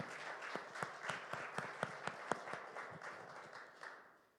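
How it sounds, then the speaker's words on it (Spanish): A church congregation at a Sunday service applauds: quiet, somewhat distant clapping with a loose rhythmic pulse, fading toward the end. "con un fuerte, fuerte aplauso para ellos"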